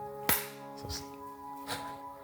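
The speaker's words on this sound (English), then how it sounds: "I'll do one uniform clap" An audience gives one sharp, uniform clap, a single crisp crack near the start followed by a couple of fainter scattered claps over a low electrical hum.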